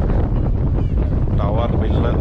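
Strong monsoon wind on the hilltop at Mandalpatti buffets the microphone in a loud, continuous roar that masks everything else over the whole stretch.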